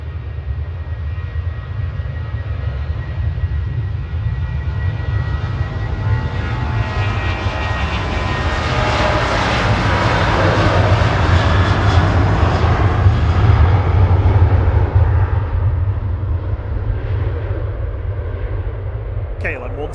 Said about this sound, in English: KLM 1036 heading back to Amsterdam there, PHB XS, a 737-900, one of the longer ones.